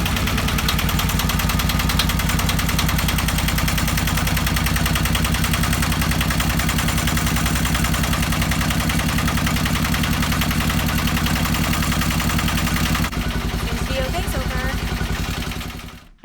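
A Yanmar YSM8 diesel engine in a Tanzer 26 sailboat runs loud and close with a steady, rapid knocking idle for about thirteen seconds, then shifts tone before cutting off at the end.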